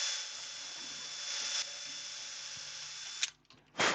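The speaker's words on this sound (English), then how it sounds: "I'm going to drill them with a machine because I'm lazy." A machine drills holes into a small turned wooden piece during woodturning, giving a steady close hiss-whine that cuts off near the end, followed by a couple of brief mechanical clatters.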